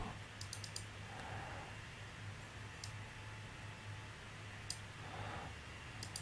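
Computer mouse clicks during FreeCAD modelling work, a few sharp, close taps in small clusters over a faint steady hum, with no talking.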